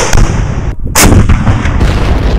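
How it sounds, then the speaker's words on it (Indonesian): A Flak 88 anti-aircraft cannon, 88 mm calibre, fires a heavy blast that booms out with a sharp crack, followed by rumbling echoes and a second loud report; dense, continuous battlefield noise throughout. "Flak 88 adalah meriam anti pesawat sekaligus anti tank dengan kaliber 88 mm"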